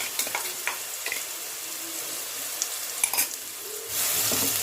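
Ginger, garlic and green chili paste fries with onions in a pan, giving a steady broadband sizzle with scattered crackles and scraping stirs, close and fairly loud, swelling louder near the end.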